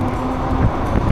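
Steady wind rushes over the microphone while riding a compact commuter ebike on a windy day, a continuous close buffeting roar with no talk.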